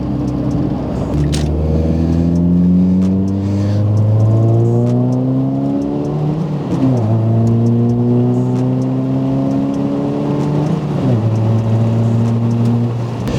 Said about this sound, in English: you guys could already probably hear everything is like rattling like crazy in here